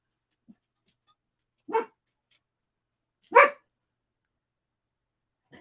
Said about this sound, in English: you're just gonna hear my puppies bark for a little bit